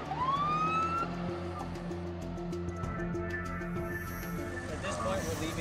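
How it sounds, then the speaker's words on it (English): A search and rescue truck's siren wails in rising and falling sweeps during a winter search in harsh weather, heard from a distance under a steady rumble with voices talking. "making lots of noise with a siren"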